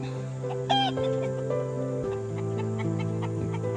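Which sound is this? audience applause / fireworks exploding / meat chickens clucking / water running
meat chickens clucking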